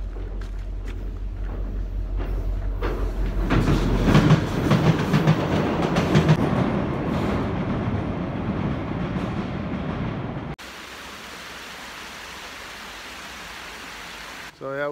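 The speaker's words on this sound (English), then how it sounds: "Oh, here's a train." A train rolls past at close range with a loud rumbling clatter that swells and then fades, while a person talks over it; the sound cuts abruptly near the end.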